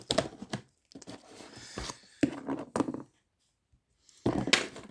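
Short bursts of cardboard tearing and crinkling as a box is torn open with a pen, several separate rips with pauses between, close by.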